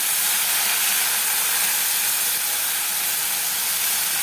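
Moong dal dropped into hot oil with fried garlic sizzles as a loud, steady, hissing wash of frying, continuous and close, with no voices over it.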